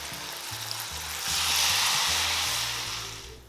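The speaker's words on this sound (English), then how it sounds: "to make my sauce, I'm gonna add in 1 bottle of white wine" A small bottle of white wine poured into a hot pan after searing scallops bursts into a loud, close hiss that swells, holds steady and slowly eases, with a low hum beneath and no talking.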